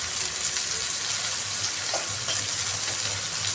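Onion and tomato sautéing in a pan with salt and turmeric, giving a steady close sizzle with a few soft stirring clicks and no voices.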